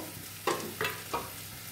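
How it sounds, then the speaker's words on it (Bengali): Onions and spices frying in a pan, with three short bursts of stirring and sizzling spaced a fraction of a second apart over a quiet steady hiss, close up. "দেখো পেঁয়াজগুলো ভাজা ভাজা হয়ে গেছে"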